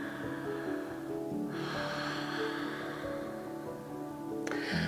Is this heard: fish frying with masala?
no